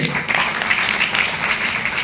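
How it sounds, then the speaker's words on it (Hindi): Applause from a seated group, a brief, loud, steady patter of clapping hands. "ताली होगी सर के लिए"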